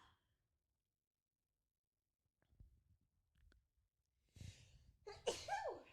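After near silence and a few faint shuffles, a sharp inhale leads into one loud, close sneeze.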